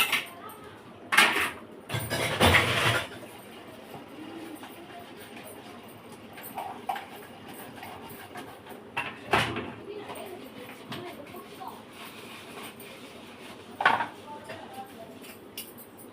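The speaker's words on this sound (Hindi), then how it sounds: "ज़्यादा बर्तन नहीं है, अभी कर लेते हैं जल्दी जल्दी बर्तन।" Dishes washed by hand at a home sink, with scattered clinks and clatter of utensils and pots, a few louder bangs early and later, against running water and a quiet background.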